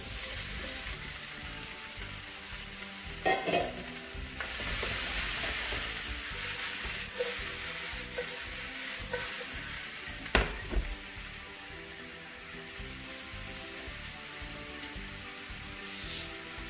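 Mushrooms and garlic frying in a pan for beef stroganoff, with onions, giving a steady moderate sizzle with a few louder crackles and spoon knocks along the way.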